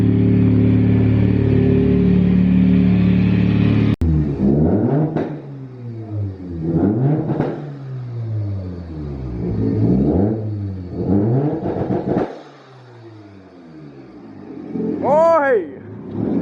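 A Toyota JZX100 car engine revs hard in repeated rising and falling bursts while doing skids, loud and close after a brief stretch of steady background noise.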